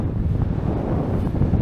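Wind buffets the microphone on a cloudy, windy December morning in Ciechów, Poland, a loud, constant low rumble and roar throughout with no voices.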